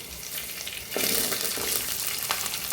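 Curry leaves and green chilies frying in hot oil for a fish kolambu, a soft sizzle that jumps to a louder, brighter crackle partway through, with light stirring and no voices.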